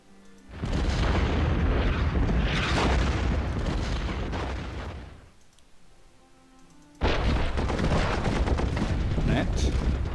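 Artillery firing in the World War I strategy game Commander: The Great War: two long, loud booming rumbles of cannon fire separated by a brief lull, with no talk over them.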